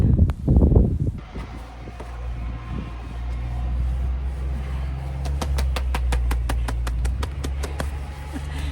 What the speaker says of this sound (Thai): ดูความแรงของลมนะคะทุกคน นี่ขนาดอยู่ในชายคานะคะเนี่ย ยังแรงขนาดนี้